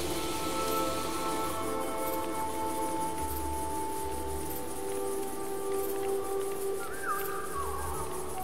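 Steady rain in the video game Oknytt hisses continuously, with soft patters and a faint tonal hum running beneath it.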